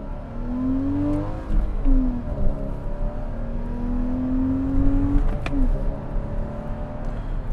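A 2014 Porsche Cayman sports car accelerates on a test drive, its engine rising in pitch through several gears with brief dips at each shift, heard steadily from inside the cabin.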